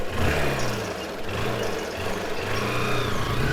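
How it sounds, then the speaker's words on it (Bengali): A motorbike engine hums and revs steadily while riding, close and continuous. "সুবিনয়ের বাইকে উঠে বসলাম।"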